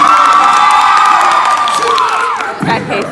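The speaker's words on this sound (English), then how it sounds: "Everybody clap once." An audience cheers loudly and continuously after being asked to clap once, a dense wash of crowd voices and whoops that stays strong before easing slightly at the end.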